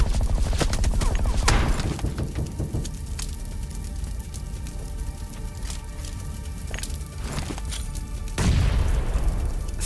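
Grenade explosions in the PUBG Mobile battle game: a string of loud, broadband booms and bursts, with big blasts near the start, around the middle and a heavy one near the end, over constant gunfire-like crackle and rumble.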